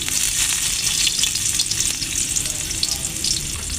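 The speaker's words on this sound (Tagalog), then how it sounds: "Maggisa ng sibuyas," Onion and garlic sauté in a pan for a shrimp and crab coconut stew, a bright continuous sizzle with light stirring scrapes, close up with no talking.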